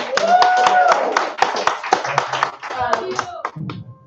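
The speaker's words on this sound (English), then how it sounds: "can we do one more round of applause for her?" An audience at a live poetry reading in San Diego claps for a poet, a dense round of hand claps that thins into scattered claps and fades near the end.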